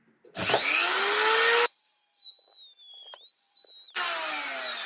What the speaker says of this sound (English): So I need to drill in to here